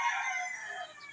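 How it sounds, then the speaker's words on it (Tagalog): A rooster crows once, loud and close, in a long drawn-out call among a flock of chickens at a house in Padre Garcia, Batangas, with no talking. "Ang dami po manok din po nila nilagay"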